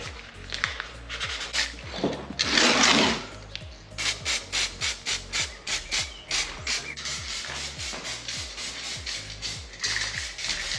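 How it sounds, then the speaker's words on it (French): Fine sandpaper rubbing a headlight lens, close rhythmic back-and-forth scratching strokes that speed into a fast regular series, with a louder rough burst early on. "Petit ponçage avec du fin pour créer une accroche."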